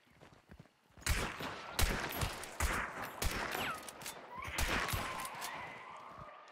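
Gunfire in Hunt: Showdown bursts out after a soft opening as a series of loud, close shots and impacts, followed by ringing, echoing tails and scattered further blasts.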